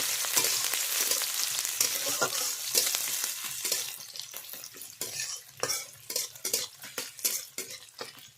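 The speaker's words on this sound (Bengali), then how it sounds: "তার মধ্যে দেব কুচনো পেঁয়াজ, এবার এইগুলোকে একটু ভেজে নেব।" Chopped onion fries in a pan for a crab and spinach ghonto. A steady hiss carries close and clear, broken by quick scraping stirs that grow more rhythmic and clattery toward the end, with no talking.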